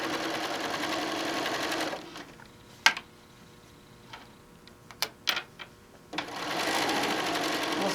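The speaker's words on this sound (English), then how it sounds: "We'll stitch right through our handle." A sewing machine stitching through the handle of a peacock-panel tote bag, steady whirring runs at the start and end with a quieter pause between holding a few clicks and taps, close by.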